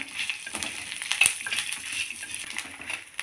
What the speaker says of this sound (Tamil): இந்த ஸ்டேஜில் கொஞ்சமாக புளி சேர்த்துருங்க அதையும் இதில் நல்லா வறுத்துக்கலாம்